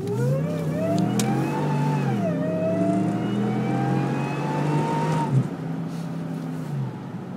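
A supercharged Saleen SportTrac engine revs hard under heavy throttle, its pitch climbing steadily and then dropping as the driver backs off. The roar is loud, close and continuous, with a supercharger whine riding over it.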